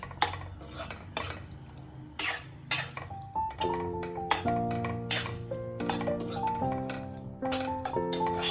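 A utensil stirs avarekalu beans curry in a pan, giving close metallic scrapes and clinks in an irregular rhythm, with a faint sustained tone in the background.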